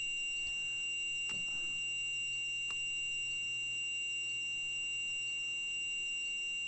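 A steady electronic alarm rings inside a train cab in the Train Sim World Ruhr-Sieg Nord simulator. It sounds as a continuous high tone with faint regular ticks and a low hum underneath, with no voices.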